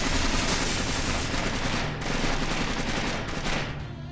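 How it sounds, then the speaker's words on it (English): Enemy guns fire in Splinter Cell Pandora Tomorrow, dense rapid bursts of automatic gunfire with short pauses between volleys, loud and close. "a couple dickheads with guns start firing before you get into their line of"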